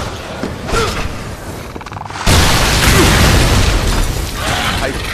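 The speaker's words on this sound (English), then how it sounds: "I did not cause that explosion." Explosion in the shooter game Shadow Warrior (2013): a loud blast at about two seconds gives way to a sustained roaring rumble of fire and debris, heavy and close, over busy game noise with a faint voice underneath.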